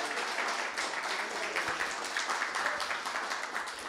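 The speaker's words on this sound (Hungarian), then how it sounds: "Te is megéled, hogy téged tapsolnak meg." An audience in a church hall claps steadily, a dense, even applause that carries on throughout at moderate loudness.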